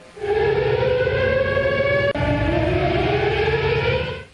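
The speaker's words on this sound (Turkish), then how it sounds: "Malatya'da saatler yine 9'u 5 geçe durdu, sirenler çaldı" A civil defense siren wails in Malatya during the memorial silence for Atatürk, a loud sustained tone that holds steady, breaks off for a moment, then resumes and fades, with no voices.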